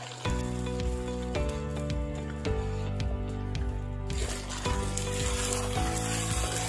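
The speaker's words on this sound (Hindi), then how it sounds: "ये क्रीम को डाल देंगे और मिक्स कर लेंगे। असल चम्मच चलाना है कि हमारी क्रीम फटे नहीं।" Cream is stirred into mutton karahi, a white restaurant-style karahi, as it sizzles in the pot. A steady crackle runs beneath loud, tuneful background music with a recurring beat.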